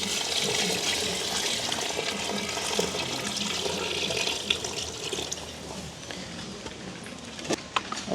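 Water poured into a cooking pot while making biryani in a village kitchen, a steady rushing, splashing stream that runs nearly the whole time, close and loud, with a few small clinks near the end.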